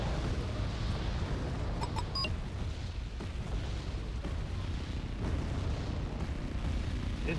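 Continuous rumble of artillery and explosions in a modern war video game, with mortars and rocket fire among them, dense and loud throughout, with a few sharp bursts standing out and no talk.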